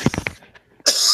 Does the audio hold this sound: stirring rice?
no